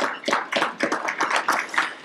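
A small seated audience at a morning business gathering gives a brief round of applause, sparse claps pulsing unevenly and close by.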